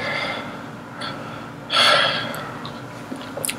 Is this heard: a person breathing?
yes